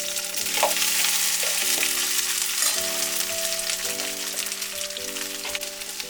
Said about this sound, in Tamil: இது நல்லா எண்ணெயிலே வதங்கணுங்க